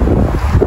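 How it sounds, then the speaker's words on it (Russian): Wind buffets a microphone outdoors in a residential courtyard with rose bushes, a continuous loud rumbling roar that fills the whole short moment with no voices. "И что-то ветер дует."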